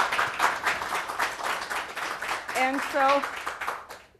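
Small television studio audience of about twenty people clapping, steady moderate applause throughout with voices talking over it.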